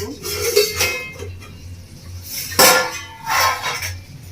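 A plate lid lifts off a pot of village-style chicken kosha with soyabean chunks, giving a few metallic clinks and scrapes, the loudest clatter near the middle and another toward the end.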